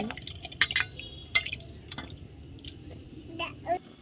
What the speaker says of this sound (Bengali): আমি এখানে চিকেনটা ধুয়ে নিচ্ছি ভিনিগার দিয়েছি